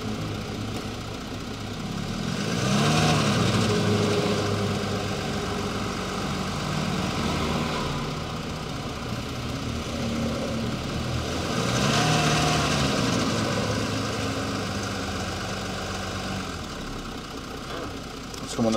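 An Audi with suspected engine damage runs near idle, a steady low rumble with a slight knock, rising gently in two slow swells, while a person speaks over it.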